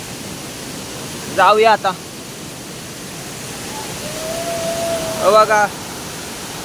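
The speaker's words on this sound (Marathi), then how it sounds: "हो बघा वर आहे धबधबा" A hidden waterfall roars nearby as a constant wash of rushing water, with two short bursts of someone talking over it.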